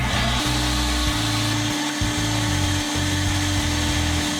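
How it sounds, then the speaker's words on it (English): A sandblaster preps metal parts of a jewelry stand for paint, a loud steady hiss and roar that keeps running, with the motor droning underneath and briefly cutting out and restarting. "I'll use a sandblaster just to prep the material for paint, smooths it out a little bit"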